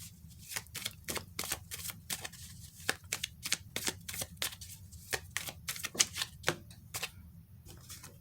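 Tarot deck shuffled and cards drawn during a reading, a busy run of crisp, close card snaps and riffles, sharp and rhythmic, with no speech over them.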